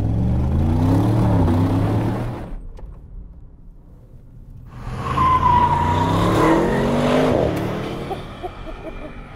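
The 4-litre turbo engine of an Audi RS6 Avant estate revs hard as the car accelerates, loud and close, with rising gear sweeps, a brief lull at a shift, then climbing revs again.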